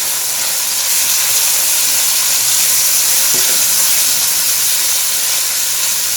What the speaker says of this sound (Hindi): साथ ही मैं ये लहसुन 1 चम्मच इसमें ऐड कर दूंगी और दोनों को अच्छी तरह से फ्राई करेंगे